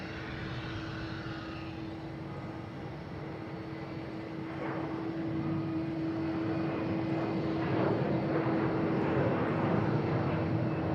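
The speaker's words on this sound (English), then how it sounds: "Our next taking off is Delta heading to LaGuardia at E175." A Delta Embraer E175 jet takes off at Boston Logan airport, a steady broadband engine roar with a sustained tonal whine that grows louder and fuller over several seconds, heard from a distance outdoors without talk.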